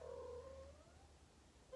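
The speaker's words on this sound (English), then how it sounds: "And you guys will hear my cat." A cat hidden under a bed lets out a faint, drawn-out whining yowl that slides downward, followed by a short second cry after a pause, quiet and a little distant in a still room.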